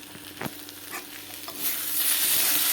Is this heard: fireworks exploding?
no